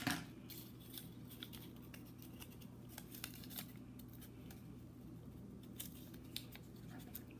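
Scissors snip through paper for homemade paper dolls in a steady run of quick, crisp cuts, quiet and close over a low background hum.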